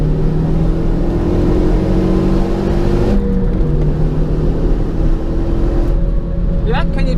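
A car accelerating around the Zandvoort race track, its engine a steady loud drone with rising pitch sweeps and a gear change partway through, while people talk over it inside the car.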